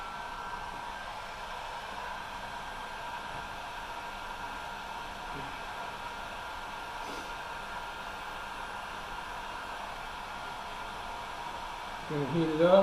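Heat gun blowing hot air onto a fuel hose during a fuel pump replacement on a 2017 Arctic Cat snowmobile, a steady, fairly quiet hiss that runs unchanged throughout.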